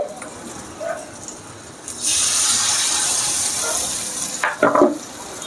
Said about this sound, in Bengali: আস্তে আস্তে এটাকে ভালো করে ভাজতে হবে।